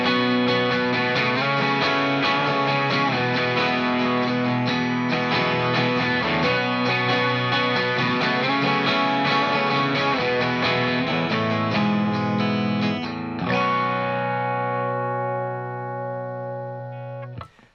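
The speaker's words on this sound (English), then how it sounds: "at the beginning of this song, we have a guitar part playing octaves" Distorted electric guitar plays octave figures from the opening of a song, steady and loud with effects, then a final chord rings out and fades over the last few seconds.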